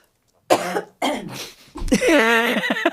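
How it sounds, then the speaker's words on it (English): A person coughs several times in short, harsh bursts close by, ending with a throaty rasp. "I may or may not have a little bit of a cough going on here"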